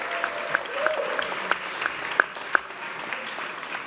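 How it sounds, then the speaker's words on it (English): Applause for the council clerks in the chamber during a New York City Council stated meeting, a steady patter of clapping from the room that runs through the clip with a few sharper claps standing out. "let's give them a big round of applause"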